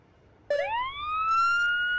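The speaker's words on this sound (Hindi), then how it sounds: "lights, siren," Police car siren in a driving video game with European luxury cars, switching on abruptly and rising into a steady wail that sustains loud and alone to the end.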